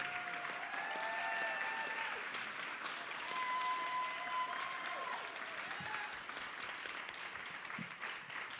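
Audience applause at a panel event on fighting white supremacy and state violence, a steady broad wash of clapping filling the whole stretch, with faint tonal sounds drifting over it.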